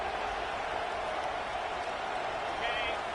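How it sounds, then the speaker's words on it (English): A stadium crowd at a South Carolina vs Nebraska college football game roars in a loud, sustained wash of cheering and noise without letting up. "This crowd bringing the energy and noise early"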